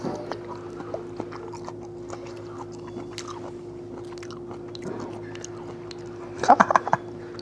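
Soft, close, wet chewing of jackfruit flesh runs quietly under a steady background hum, with a brief cluster of louder bites near the end and no talking.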